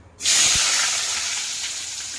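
Chopped onions hit hot oil in a pan for mutton curry, setting off a sudden loud sizzle that then settles into a steady, slightly fading hiss, close by and without talk.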